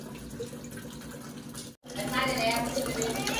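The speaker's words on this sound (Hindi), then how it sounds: "ये डोली से ही भर भर के घड़ा भर दूंगी।" Water is poured from a bucket into a clay water pot in a home. It splashes and trickles steadily, breaks off briefly, then resumes a little louder with a bubbling, filling tone.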